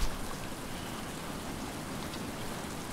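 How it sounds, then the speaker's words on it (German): Heavy in-game rain pours down in the survival game Stranded Deep, a loud, unbroken wash of falling drops that fills the whole stretch with no talking. "Es regnet und regnet und regnet und nichts passiert."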